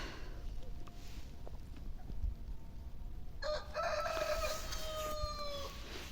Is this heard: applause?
no